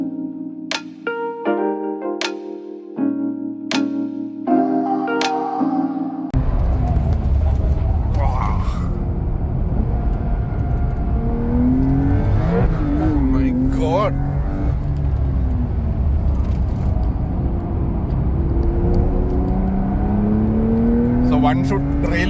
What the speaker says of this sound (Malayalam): പോർഷെ 911.